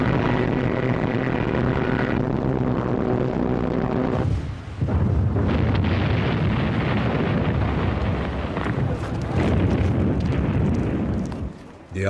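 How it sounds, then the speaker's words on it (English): Bombs bursting in a Luftwaffe air raid on Malta in 1941, a loud sustained roar of rumbling explosions and booming blasts that barely lets up, with a short lull partway through. "In early 1941, the Luftwaffe bombed Malta."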